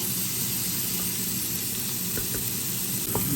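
Meat browning in a hot pan gives off a steady, loud, continuous sizzle with a few faint pops and stirring clicks. No voices are present.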